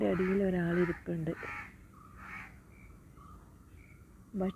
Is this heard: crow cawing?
yes